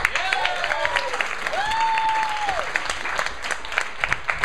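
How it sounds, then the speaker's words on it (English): Audience applause at an improv comedy show, a moderate burst of clapping that fades out, overlapped by performers' voices and a sung or drawn-out vocal note. "Give us a round of applause."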